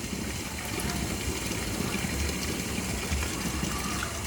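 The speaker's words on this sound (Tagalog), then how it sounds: "hayaan po natin tumutulo yung gripo habang tumutulo po yun, nahahalo niya yung mix ng Snap A and Snap B" Water running from a faucet into a hydroponic nutrient mix of Snap A and Snap B, a steady close wash of falling water and splashing throughout.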